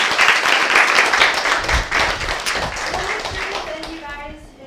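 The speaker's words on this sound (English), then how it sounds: "Another round of applause for David." Audience applause for a guest at a startup event, dense clapping that carries for several seconds and gradually thins out, with a voice speaking over it toward the end.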